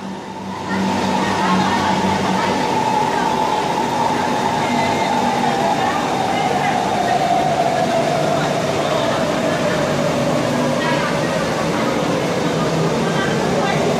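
An electric sky train pulls into an elevated station, its motor whine gliding slowly downward in pitch as it decelerates, with loud rumbling and rolling noise filling the platform for the whole stretch.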